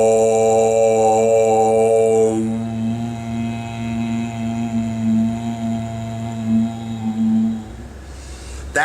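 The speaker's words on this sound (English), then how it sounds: "do some deep resonating sounds, chanting, that would sound like this" A deep, sustained vocal drone with rich overtones, held steadily for several seconds before fading, with no words spoken.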